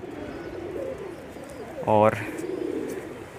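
A pigeon on a rooftop gives a single short, throaty coo over low background noise, with a voice speaking briefly nearby.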